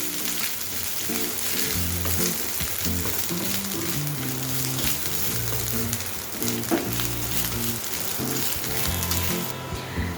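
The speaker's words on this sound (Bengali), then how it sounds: "হালকা করে নারকেলটা একটুখানি ভেজে নেব।" Grated coconut fries lightly in a pan for a Bengali katla fish ghee roast, making a steady, close sizzle that runs throughout under background music.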